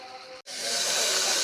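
Chicken shallow frying in a pan of oil gives off a steady sizzling hiss. After a split-second gap it swells louder and brighter and holds, close and continuous.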